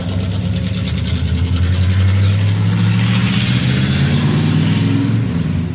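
A 1964 Corvette engine runs with no mufflers inside a garage, a loud, steady, throaty rumble that swells slightly as it revs, alone without talk.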